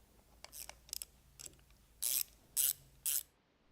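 Set screws being tightened on the front cover of a DESMI HD series pump: faint ratchet clicks at first, then three louder, sharp ratcheting bursts close by, with no talk.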